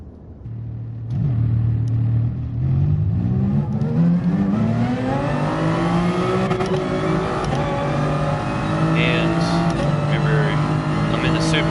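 A race car in GT Sport is driven with quick shifts, its engine rising steadily in pitch with a steady, loud drone and brief shift breaks. A voice talks over it.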